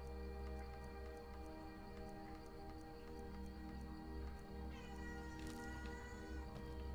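A cat meows in the video game Skyrim, a faint drawn-out call with a wavering tone near the end over a steady droning game ambience, with no talking.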